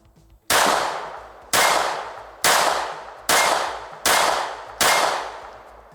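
A Czech CZ Vz.70 Cold War surplus pistol from Century Arms fires six loud, sharp shots at an even pace about one second apart, each crack followed by a short ringing decay.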